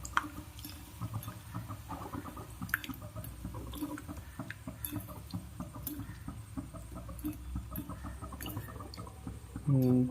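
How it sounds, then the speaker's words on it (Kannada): Tamarind is squeezed by hand in water in a home kitchen, making soft, faint, repeated wet squishes and drips under low background noise while a country chicken sukka is prepared. "ಹುಳಿಯನ್ನು ಹೀಗೆ ಹಿಂಡಬೇಕು."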